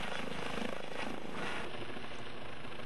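A police aviation unit rescue helicopter's rotor chops steadily and loudly nearby in Hokkaido, a continuous thudding drone with no voices.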